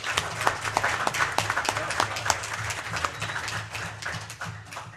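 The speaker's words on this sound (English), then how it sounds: "I was going to ask if applause is appropriate" An audience at a county board meeting claps in steady, sustained applause lasting several seconds, a crowd of hands at moderate distance that gradually thins out toward the end.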